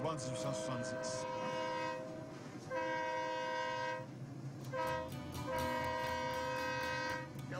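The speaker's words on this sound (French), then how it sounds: "J'adore faire siffler le train." A train whistle blows in several long, loud harmonic blasts with short gaps between them, over the low rumble of a moving train.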